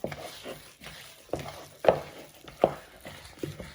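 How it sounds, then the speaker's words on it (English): Spicy Mexican meatball mixture of minced meat, seasoning and spices is patted around a bowl, giving soft, wet slaps and thuds at an irregular, unhurried pace, close by. "So you want to give it a good pat in round the bowl"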